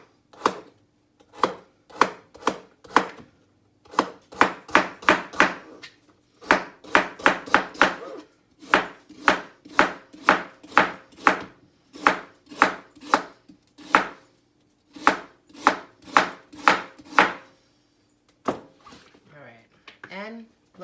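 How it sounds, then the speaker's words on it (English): A knife slicing a carrot thinly on the diagonal on a cutting board, dozens of crisp, evenly spaced chops in quick runs separated by short pauses, close and clear. "just slice it on a bias with it, which is a diagonal cut."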